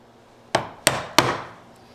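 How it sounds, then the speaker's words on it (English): A chisel is struck three times in quick succession while chopping wood for a wedged mortise and tenon joint, each a sharp, close woody knock that rings out briefly. "Bunch of little shallow chops that are only maybe 1/16 of an inch apart."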